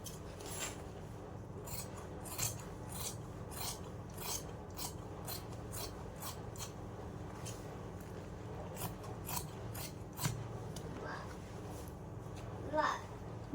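Scissors snip through men's shirt fabric in a quick run of crisp cuts, close and fairly faint, with a voice talking quietly at times.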